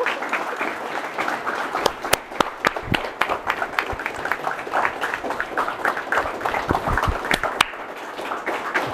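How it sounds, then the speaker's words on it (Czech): Sustained applause from wedding guests for a newly married couple after their first kiss, dense steady clapping throughout with a few sharper claps standing out, no talk over it. "Potlesk pro ně, přátelé."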